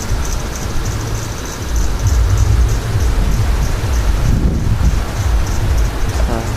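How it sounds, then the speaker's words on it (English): Strong wind roars and buffets the microphone during a supercell thunderstorm near St. Louis, Missouri, a steady loud rushing that swells and gusts throughout with no voices. "And right now we're starting to get some wind."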